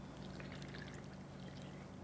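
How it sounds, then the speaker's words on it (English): Liquid poured into a bowl of hotteok dough, a faint steady trickle over low background hum, continuous for about two seconds. "And you can just pour it over."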